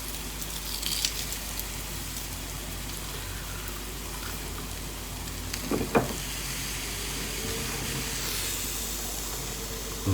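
Bacon frying in a pan on a stove gives a steady, dense sizzle throughout, with a brief clatter or stir near the middle.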